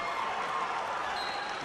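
A wrestling match crowd in Raleigh cheering at a 92 kg semifinal, a broad steady roar of voices and applause heard at a moderate distance throughout.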